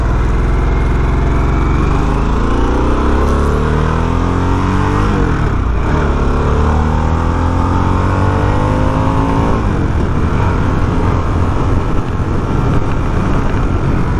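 A Harley-Davidson Sportster S motorcycle engine revs hard through rising gear pulls, loud and close, with a steady roaring drone and repeated climbing pitch sweeps as it accelerates.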